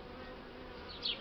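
Bees hum softly and steadily around a hive as an unmated Buckfast queen is introduced into a split, with a brief louder buzz near the end.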